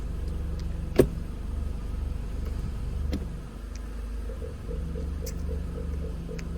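A 2016 Mini Countryman 1.6 with automatic transmission idles while the selector is shifted through the gears, giving a low steady engine hum with a sharp click near the start and soft mechanical clicks and whirs afterward.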